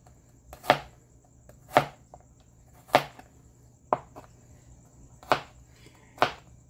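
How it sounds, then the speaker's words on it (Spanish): A knife chops garlic into small pieces on a cutting board, with six or seven sharp, evenly spaced strikes about a second apart, close and clear against a quiet background. "Vamos a cortar pequeño para que se haga más rápido."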